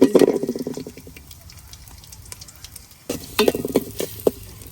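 Chopped onion and green chili sizzle in hot oil in a pot, with a burst of crackling and clinks at the start, a quieter hiss, and then a second loud burst of spitting and stirring.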